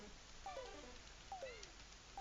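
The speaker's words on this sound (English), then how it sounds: "It's some kind of cat." A cat meows in a video game, giving three short downward-sliding calls spaced about a second apart over a steady low background hum.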